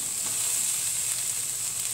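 Chillies frying in a little olive oil in a pan, a steady close hiss of sizzling with faint stirring, no talking.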